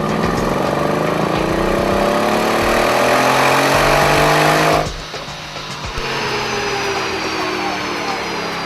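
Mercedes E63 AMG S with a hand-built M157 5.5-liter twin-turbo V8 roaring loud and steady on a dyno, rising in pitch, then cutting off abruptly partway through and dropping back to a lower hum.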